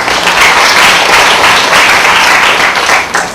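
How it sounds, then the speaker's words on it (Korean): Sustained applause from a lecture audience at a university electronics engineering class event, dense steady clapping at full loudness throughout, fading slightly at the very end. "박수."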